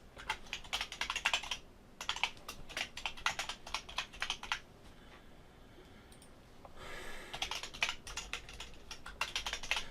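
Typing on a computer keyboard comes in close, quick bursts of clicking keys, separated by short pauses, with a longer lull midway before the rapid tapping resumes.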